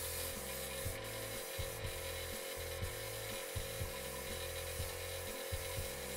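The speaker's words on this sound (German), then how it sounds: "Ich kann mit dieser Airbrush-Farbe direkt über meine Bleistiftstriche sprühen." An airbrush sprays paint over pencil lines and Copic marker on Lanavanguard synthetic paper. A steady airy hiss runs over a low, rhythmic pulsing of the compressor throughout.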